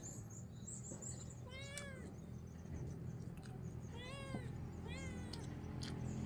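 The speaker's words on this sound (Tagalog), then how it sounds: "Yung pusa ko, gutom na rin." A hungry house cat meows in two clear bursts of several rising-falling calls each, moderately close, over a steady background hum with no talking.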